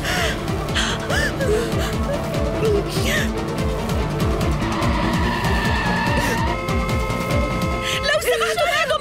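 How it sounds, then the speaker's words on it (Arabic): Car skidding with squealing tires as it fails to stop, a steady loud screech under dramatic music and shouting voices throughout. "السيارة ما عم توقف"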